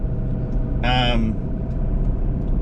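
Steady low road rumble fills a moving vehicle's cabin on a trip between Venice and Clermont, Florida, continuous and fairly loud, with a brief voice-like tonal burst near the middle.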